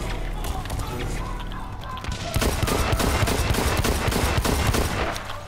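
Rapid repeated gunfire from a light pistol in the shooter Blacklight, sharp loud shots in a fast burst that grows denser partway through, over game background noise.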